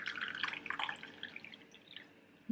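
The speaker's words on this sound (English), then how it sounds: "And now we'll just take the tea strainer and just pour" Pine needle tea poured through a tea strainer, faint close trickling and dripping of liquid, busiest at first and tapering to sparse drips, with no talk.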